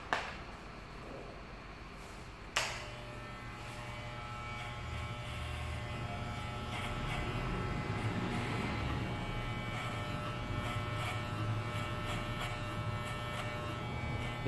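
Hair clippers fitted with a number 2 comb finish a fade haircut: a click, then a steady electric buzz that carries on evenly to the end with no talk.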